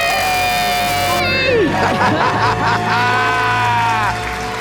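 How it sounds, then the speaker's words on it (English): A burst of loud, high-pitched screaming and whooping from a few people celebrating becoming debt free, rising together and holding for a couple of seconds before tapering off. "Let's hear a debt-free scream."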